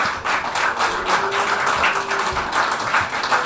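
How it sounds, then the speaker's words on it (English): Audience applause in Dearborn, Michigan: a steady burst of many hands clapping together at moderate distance, dense and even for a few seconds with no talking. "you hear some applause from the peanut gallery over in Dearborn, Michigan"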